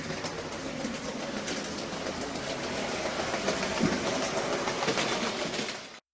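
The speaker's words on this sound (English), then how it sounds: "I needed to do a bit of shunting to set things up so that I could run the two Black 5s together" A Hornby Black 5 OO gauge model steam locomotive runs steadily on its track, giving a continuous close mechanical whirr with faint rail clatter. The sound stays level throughout and cuts off abruptly at the end.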